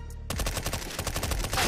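Rapid automatic gunfire in Counter-Strike: Global Offensive, a loud, dense burst of shots in fast rhythm that runs almost continuously after a brief quiet start.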